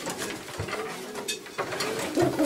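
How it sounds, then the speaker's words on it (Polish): Pigeons coo softly inside a racing loft, low murmuring calls mixed with fluttering and rustling, with a couple of clearer coos near the end. "Tu mamy gołębie"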